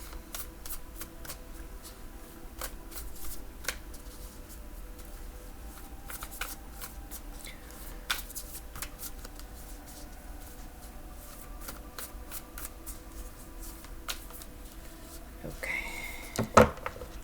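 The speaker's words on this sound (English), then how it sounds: "let's shuffle one last time" Steady riffling and soft slapping of tarot cards being shuffled close by, continuing for a long stretch with a few sharper snaps near the end.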